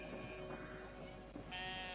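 Sheep bleating in the video game Brothers: A Tale of Two Sons, a few short, faint, quiet calls over a low background hum.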